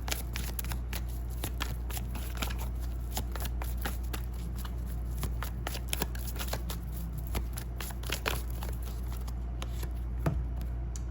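Tarot cards are shuffled by hand in a long run of quick, dense riffling and slapping clicks, close and continuous, with a low background hum.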